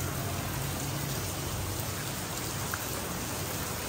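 Heavy rain pours down outside in a dense, steady hiss of drops striking surfaces, loud and unbroken throughout, with no voices over it.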